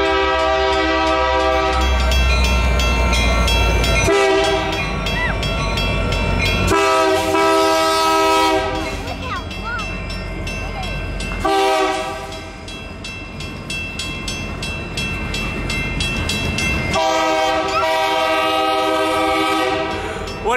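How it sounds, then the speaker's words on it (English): A train passes very close by, its loud horn blaring in long sustained blasts over the rumble and clatter of the cars, with the roar dipping briefly between blasts before swelling again. "You've never been this close to a train before, have you?"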